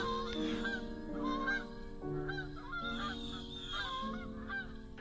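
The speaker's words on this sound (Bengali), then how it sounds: "এ শব্দ মানসিক নহে, অমানুষিকও নহে, চরবিহারী জলচর পাখির ডাক।" Waterbirds honk loudly and repeatedly at night near a riverbank sandbar, several calls overlapping in a noisy, goose-like chorus that carries on throughout.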